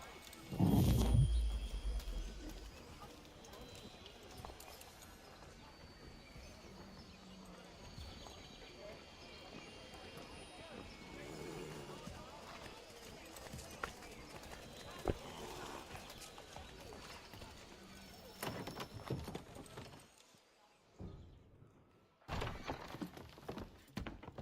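Horse hooves clip-clop steadily at a walking pace on a street, soft and somewhat distant beneath music and voices.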